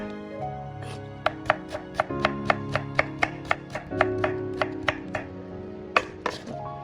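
A knife chops vegetables on a board in a steady series of sharp, close knocks, about sixteen crisp strikes in quick rhythm over a sustained musical background.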